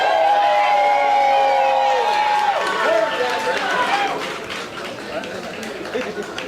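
A live poetry slam audience in Houston cheers and whoops loudly for a poet, with dense crowd clapping and shouting that stays strong before settling into scattered applause and chatter.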